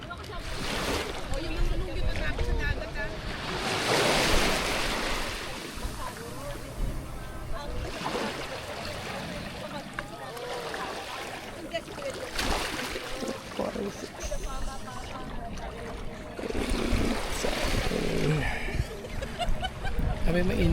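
Gentle sea waves lap and wash along a beach in summer while wind blows across the open air, a steady broadband surf texture with swells rising and falling, voices talking at times over it.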